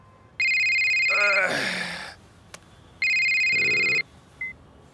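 A telephone rings in two loud electronic bursts with a pause between, while a person sighs and speaks briefly in between.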